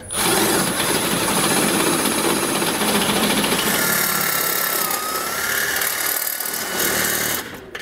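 A power drill whines loudly and continuously, grinding through metal on a 2022 Buick Encore GX for several seconds before stopping abruptly near the end.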